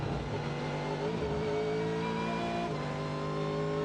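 A race car engine roars at the Rolex 24 at Daytona, a sustained, buzzing drone that rises in pitch as it accelerates, heard at a moderate distance under a constant background hum.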